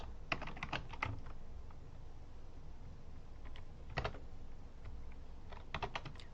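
Quiet clusters of computer keyboard keystrokes, tapped in short irregular bursts with pauses between, close and faint.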